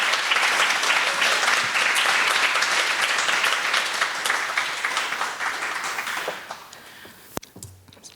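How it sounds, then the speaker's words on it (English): Audience applause at a lecture series event welcoming speakers, a dense burst of many hands clapping that holds steady for several seconds, then thins out and fades to scattered claps and near silence. "Give them a round of applause."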